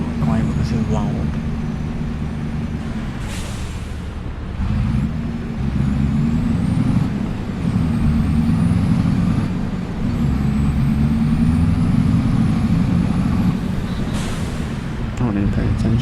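A loud truck engine in the video game Farming Simulator 25 drones steadily throughout, its low rumble swelling and easing, with a hiss of air and a voice talking over it.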